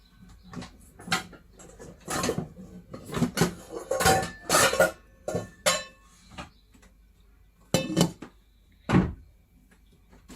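A pot being handled in a home kitchen to heat milk: a string of clanks and clinks of metal cookware and utensils, close and irregular with short pauses, and no voices.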